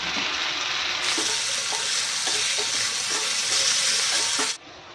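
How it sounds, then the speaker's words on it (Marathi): Dried fish, onion, potatoes and drumsticks frying in hot oil, a loud steady sizzle with stirring scrapes throughout, close up, dropping off abruptly near the end. "तेल चांगलं तापलं की एक बारीक चिरलेला कांदा त्याच्यामध्ये ही सुकी काढ याला करदी पण बोलतात काही सेकंद अशी परतून घ्यायची"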